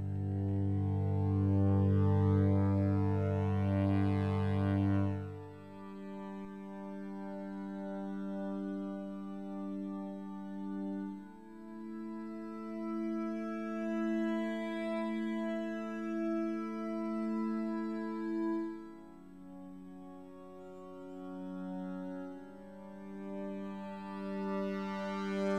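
A sustained synth pad holds layered chords that shift a few times, washed in reverb with slow swelling shimmer.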